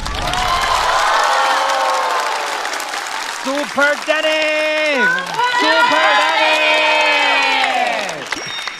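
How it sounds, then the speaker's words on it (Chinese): A studio audience at a stand-up comedy show applauds and cheers loudly and steadily, while voices chant a name in a rising, sing-song rhythm over the crowd noise. "再次掌声送给丹尼。"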